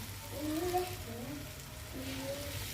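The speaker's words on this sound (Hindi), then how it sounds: "अंडे हमने फेंट लिए, अब हम इस तरह से प्याज़ों के मसाले में डाल देंगे" Beaten eggs go into frying onion masala for an egg and onion salan, with a steady, moderate sizzle that continues under a person talking nearby.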